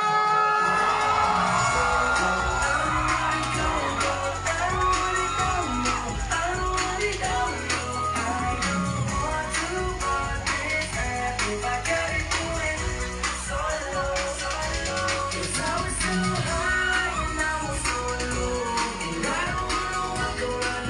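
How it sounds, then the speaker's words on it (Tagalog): Guests at a wedding reception cheer, whoop and clap loudly for the newly introduced married couple, a dense, sustained roar of crowd noise filling the whole stretch without letting up. "mas malapit sa atin, mas malakas na palakpak!"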